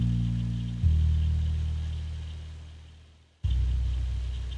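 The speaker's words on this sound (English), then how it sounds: "Okay, so this is the bass line and sound like this." A simple, dirty bass line played on the Purity synth bass, with a low sustained tone holding, dropping to a brief near-silence, then returning loud and heavy.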